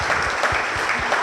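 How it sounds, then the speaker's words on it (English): An audience at a city panel event applauding the panelists, a brief burst of dense clapping from many hands in a hall, loud and steady. "I want to give a huge round of applause for our panelists."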